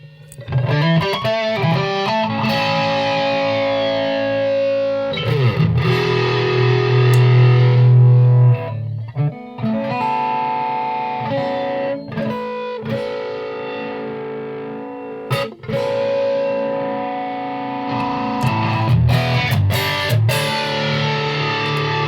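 Distorted electric guitar through a Vortex flanger pedal, playing chords and notes with a swirling, sweeping modulation, loud and sustained with brief pauses between phrases.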